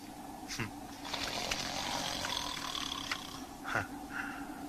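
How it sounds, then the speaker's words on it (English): Heavy snoring in an audio drama, a drawn-out rasping breath with throaty, rumbling texture, bracketed by short sharper snorts, close and moderately loud. "Now there's an aristocratic snore."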